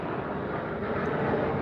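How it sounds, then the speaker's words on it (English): Airplane passing overhead, a steady broadband engine roar that fills the short stretch without pause and swells slightly toward the end. "There's also an airplane going over."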